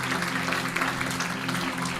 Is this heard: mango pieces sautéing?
no